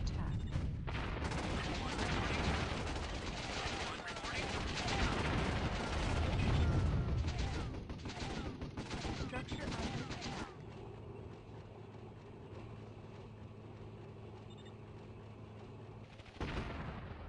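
Sustained battlefield gunfire and artillery-like blasts hammer a base structure in the strategy game Warzone 2100, dense and loud for about ten seconds, then easing into quieter mechanical rumble with scattered shots.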